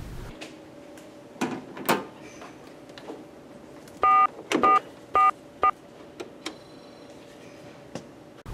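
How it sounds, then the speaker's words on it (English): Four short DTMF keypad beeps sound in a quick sequence as a call is placed from a refuge command center base station, clear and close, among scattered clicks and handling knocks in a quiet room. "Place a call from the base station to a phone."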